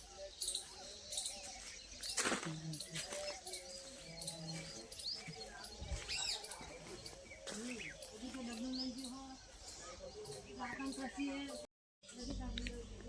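Birds chirp and whistle in short, varied morning calls, some near and some farther off, while people talk now and then and insects buzz faintly.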